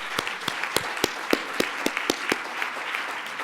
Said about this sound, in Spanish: Les pido un aplauso a todo el equipo de coordinación